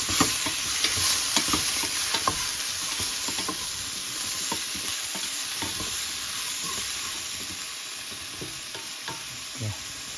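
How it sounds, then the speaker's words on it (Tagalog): Chicken feet adobo sizzling and frying steadily in a pan while a utensil stirs it, giving scattered scraping clicks over a constant close, hissing crackle, with no speech. "Haluin natin ng konti."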